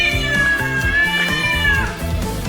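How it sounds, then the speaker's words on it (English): A house cat lets out one long, loud, drawn-out meow close up, its pitch held steady before sliding down at the end, over a thumping low background. "Our cat does not like the fact that we're all home quarantined"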